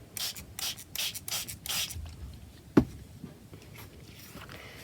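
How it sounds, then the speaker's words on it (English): A spray bottle spritzes water onto watercolour paper in a quick series of about five close, hissing bursts, followed by a sharp tap and quieter rustling. "now I spritz again"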